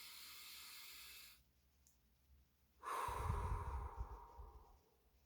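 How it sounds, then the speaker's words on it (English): Two deep breaths: a long airy exhale, a short pause, then a louder, fuller breath that trails off slowly, close and alone. "close your eyes. Take a couple deep breaths."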